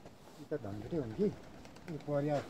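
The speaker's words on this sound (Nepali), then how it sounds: "परेवा पनि रहेछ नि यतापट्टितिर" Soft, throaty pigeon coos rise and fall in a few short bursts, mixed with nearby human voices, at a hilltop shrine in Nepal.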